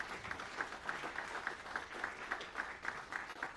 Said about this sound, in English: A big round of applause for Alex Florov